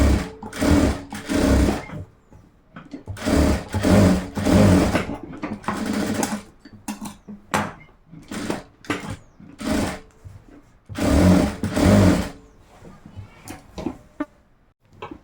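A sewing machine runs a long stitch along a blouse lining in repeated bursts of whirring, stopping and starting between runs.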